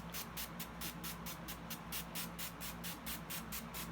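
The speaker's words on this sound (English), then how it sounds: "Just take that out and spray my face." Rapid repeated spritzes of a makeup setting spray bottle onto a face, about four per second, steady and close, hissing over a low background hum.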